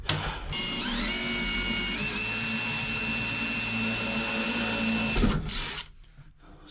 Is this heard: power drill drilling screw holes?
yes